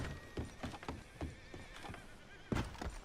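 In the Red Dead Redemption 2 video game, a horse gives a whinny and snorts while its hooves clip-clop in an uneven rhythm close by, with a sharper thump near the end.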